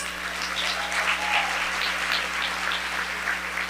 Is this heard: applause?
yes